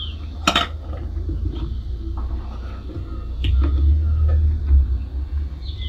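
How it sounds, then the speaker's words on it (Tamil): Penne pasta stirred into a pan of white Alfredo sauce, with a low rumbling stir and scattered clinks and taps of a utensil against the pan, moderately close, with no talking. "ஆட் பண்ணிவிட்டு நல்லா மிக்ஸ் பண்ணிடலாம்."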